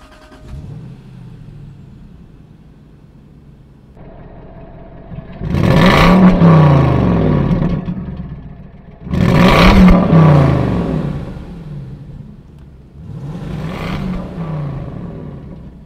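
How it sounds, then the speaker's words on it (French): A 2006 Jaguar XK 4.2 V8 (X150) is being driven, its engine rising in three loud acceleration pulls with gear changes in between, heard from close by with no talk. "Bien éduqué, le V8 Jaguar a toujours su cultiver une réelle discrétion à bas régime."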